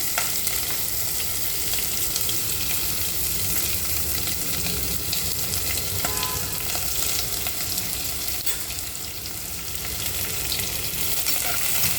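A large chopped onion frying in oil with whole spices for a dry chicken dish, a dense, steady sizzle close up with occasional faint stirring scrapes.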